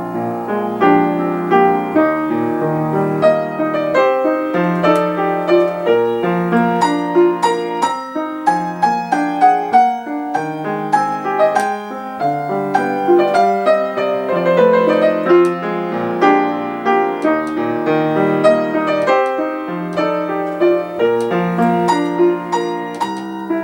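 Solo piano plays a Chopin main theme in strict, even time without rubato, a steady flow of sustained chords and melody notes at a constant moderate loudness throughout, with no voices.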